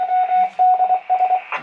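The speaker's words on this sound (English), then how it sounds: "That's just a repeater beeping off in the background." A ham radio repeater sends a short series of tonal beeps in the background: steady pitched tones broken into quick pulses over under two seconds, ending in a brief burst of noise.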